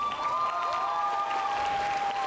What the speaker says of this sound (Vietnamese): Cảm ơn quý vị thật là nhiều với những tràng pháo tay